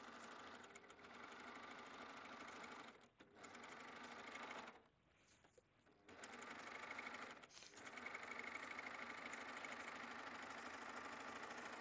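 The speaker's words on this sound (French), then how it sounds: "je vais commencer ma couture comme ça" A Baby Lock sewing machine with an extension table stitches a decorative cover stitch on fabric, its fast mechanical whir running steadily and close, pausing briefly twice before resuming.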